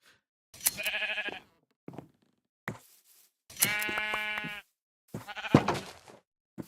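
Sheep bleating in the Minecraft video game, several separate wavering bleats at varied pitch, clear and close, with short silent gaps between calls.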